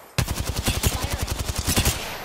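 Rapid automatic gunfire in a video game, a burst of about twenty sharp, evenly spaced shots that start suddenly and stay loud and close throughout, with no talking.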